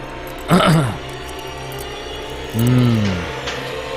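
A lock is opened with two brief mechanical clicking, ratcheting actions a couple of seconds apart, heard close against a quiet background hum.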